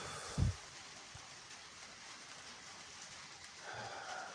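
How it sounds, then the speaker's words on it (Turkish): Steady rain hisses softly outside on a village morning, with a single brief thump near the start and no voices. "Yine yağmurlu bir sabah."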